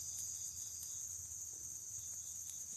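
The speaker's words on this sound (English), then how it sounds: "I don't know if you can hear through the crickets or not" Crickets chirp outdoors in a steady, high, continuous trill that stays faint and even throughout with no talking.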